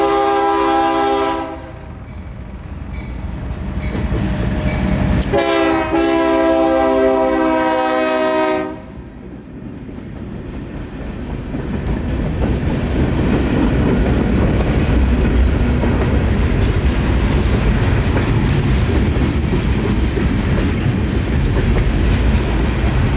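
CSX Tropicana juice train on the Palmetto Subdivision sounding its horn in two long blasts, then rolling past close by with a loud, steady rumble of wheels and railcars.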